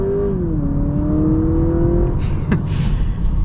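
A 2023 Honda Accord Hybrid accelerates in sport mode with a rising, steady engine drone heard from inside the cabin; the pitch climbs and holds before a brief clunk and a short exclamation.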